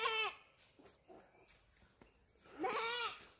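A goat bleats loudly nearby, a wavering cry at the start and a longer one near the end, with quieter rustling and soft sounds between.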